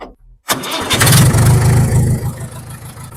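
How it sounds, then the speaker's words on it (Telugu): After a moment of quiet, an old tractor engine cranks and catches, then chugs into a loud, rough idle close by. "ఇప్పుడు ఒకసారి ట్రాక్టర్ అయితే స్టార్ట్ చేద్దామండి"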